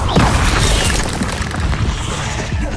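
The Bombarda blasting spell goes off in Hogwarts Legacy as a loud, close booming explosion with crashing debris, dense and rumbling through the whole short burst.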